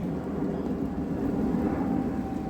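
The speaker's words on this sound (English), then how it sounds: "It has been torrential rain for God knows how long, past 45 minutes. Thunder." Thunder rumbles through torrential rain at a club lake during carp fishing, a continuous deep low roll that holds steady and loud throughout, with the hiss of heavy rain beneath it.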